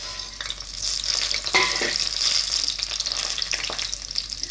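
Dried red chillies fry in hot mustard oil for a mango pickle, a bright crackling sizzle with a few sharper spatters and stirring scrapes, close and steady.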